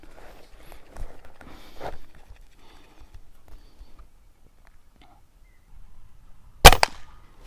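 A single sharp air rifle shot cracks into a traditional shield, one loud impact after a stretch of quiet handling noise and faint background sounds.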